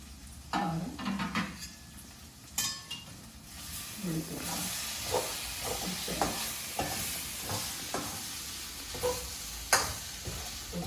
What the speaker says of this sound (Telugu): చూద్దాం ఇప్పుడు ఫ్రై అయిందో ఉడికిందో లేదో చూద్దాం